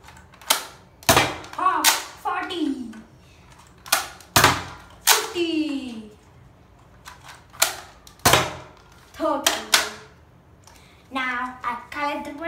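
A toy blaster fires bullets at a target board in sharp, close cracks spaced a second or two apart, each followed by a clattering hit, with a voice speaking between shots.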